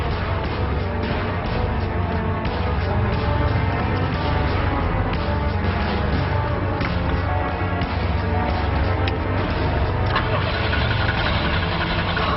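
A car engine cranks and starts, then runs with a steady mid-pitched rumble close by, loud and continuous throughout with no talk.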